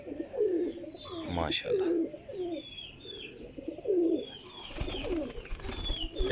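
Pigeons cooing nearby in repeated soft, throaty phrases, with a voice speaking briefly over them and a brief rustle near the end.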